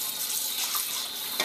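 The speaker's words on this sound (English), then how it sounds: "I have cool water running in the sink there" Cool water running from a kitchen sink tap, a steady close hiss of flowing water with a small splash at the end, no talking.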